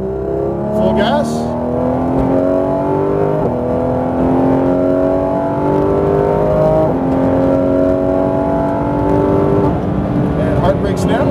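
A Porsche 991 GT3 RS at Speed Vegas in Las Vegas accelerates at full throttle, loud engine note climbing steadily through several upshifts heard from the cabin.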